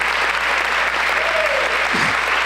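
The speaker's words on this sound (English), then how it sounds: "Look at Mary Wilson and the gang over there cheering on their Fresh Start representative" Steady, loud applause from an audience at a chamber of commerce coffee gathering greets a prize winner, continuous clapping with a brief voice rising near the middle.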